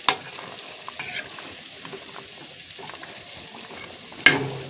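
Bhola fish curry simmers in a pan with a soft, steady sizzle and bubbling, marked by a sharp utensil clink at the start and another near the end, with no talking.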